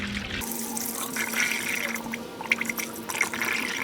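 Distilled water is poured into the coolant of a 1989–2001 Jeep Cherokee XJ's new aluminum radiator, a close, continuous trickling and gurgling with a few small splashes and drips.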